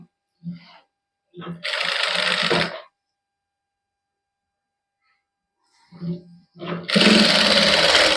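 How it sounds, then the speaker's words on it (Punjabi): A sewing machine stitches along the edges of a printed suit in two bursts, a short run then a longer loud one near the end, with brief spoken remarks between them. "ਸਾਰਿਆਂ ਦੇ ਉੱਪਰ ਨਾ ਇਸ ਤਰ੍ਹਾਂ ਕੰਨੀ ਕੰਨੀ ਤੇ ਆਪਾਂ ਸਲਾਈ ਲਾ ਲਾਂਗੇ"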